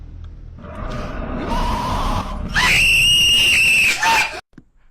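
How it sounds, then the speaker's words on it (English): A game character lets out a loud, sustained scream that rises to a piercing high pitch for well over a second, backed by a dense noisy game soundscape and ending abruptly. "I don't even know how the dude is able to scream like that"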